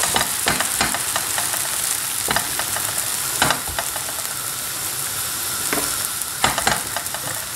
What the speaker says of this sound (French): une fois que ma crêpe est cuite sur la première face, je vais la retourner sur la deuxième